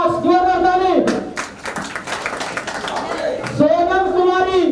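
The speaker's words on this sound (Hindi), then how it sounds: "जोरदार ताली।" A crowd claps loudly for a Class 10 student at a tuition centre's results day and prize distribution ceremony, with dense clapping between stretches of amplified announcing.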